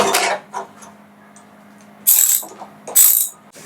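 Ratchet wrench loosening a strut nut, with a few short bursts of rapid clicking separated by pauses, close and fairly loud.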